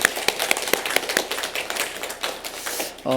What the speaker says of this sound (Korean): 우리 한 번 더 힘차게 박수하겠습니다